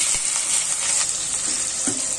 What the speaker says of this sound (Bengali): এখন একটু পেঁয়াজগুলো ভাজছি।